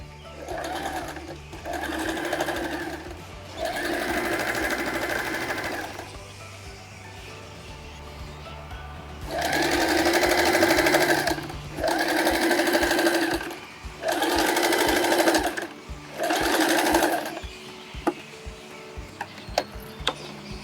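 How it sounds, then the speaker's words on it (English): A sewing machine runs a straight stitch on fabric, starting with a back stitch, in several steady mechanical bursts of a few seconds each, separated by short pauses, close and clear with no talking. "Now I'm just gonna run another straight stitch on the other side."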